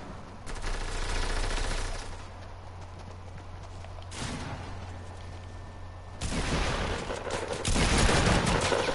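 Gunfire crackles through a squad shooter video game, with sustained bursts of rapid, sharp shots whose intensity shifts between louder and quieter stretches.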